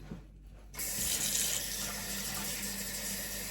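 A steady stream of water pours in after a quiet moment, a continuous close splashing rush that holds to the end.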